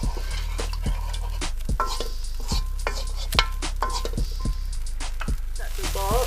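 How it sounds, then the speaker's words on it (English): A spoon stirs garlic chicken sauce thinned with water in a pan, a series of scraping clicks and knocks against the metal at an uneven rhythm over a low steady hum. "Stir it and increase the heat to maximum high heat and bring it to boil."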